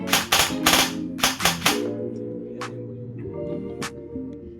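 Sharp snapping shots from a Double Bell CQB airsoft rifle fire semi-automatically in quick pairs and clusters, each followed by a brief mechanical rattle, close by with no talking.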